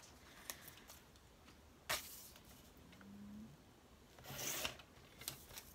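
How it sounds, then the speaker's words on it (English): Scissors cut through a book page in quiet scrapes and snips, with soft rustling between the strokes and a brief low snore in the background. "Oh, the sound of cutting paper."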